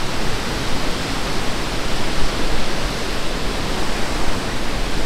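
Waterfall on Scotland's NC500 route, heard from a bridge above: a loud, dense, unbroken roar of falling water that stays steady throughout.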